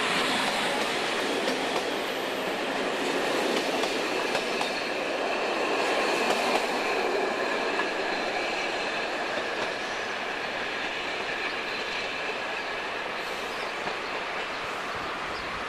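Short train departing a station on the Maastricht–Liège line, a steady rolling rumble with rhythmic wheel clatter and faint squeals, close by and sustained with no talking.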